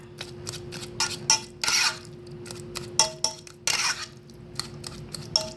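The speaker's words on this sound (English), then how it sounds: "Alright, so now I'm going to mix those up." Ingredients being mixed with minced garlic in a bowl, irregular clinks and scrapes of a utensil against the bowl in short bursts, close and moderately loud over a faint steady hum.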